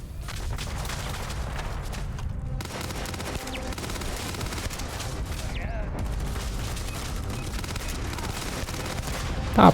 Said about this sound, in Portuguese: Começou, foi o tiroteio.